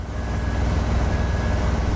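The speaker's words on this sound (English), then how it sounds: "Very loud truck." A loud truck engine in Euro Truck Simulator 2 drones steadily, a deep continuous rumble with an even hum, heard alone without talk.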